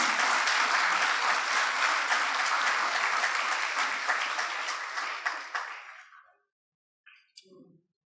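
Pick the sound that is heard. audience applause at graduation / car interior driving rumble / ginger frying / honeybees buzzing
audience applause at graduation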